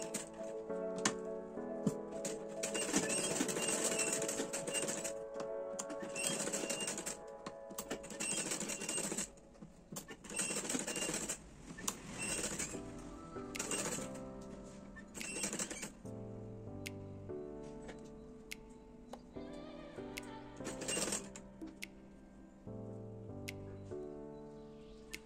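A sewing machine stitches lace onto a sleeve in short rattling runs that start and stop repeatedly, heard faintly beneath steady background music.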